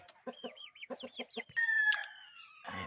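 A captured labuyo, a red junglefowl rooster, gives a series of short clucks followed by a brief high crow, close and clear against a quiet background.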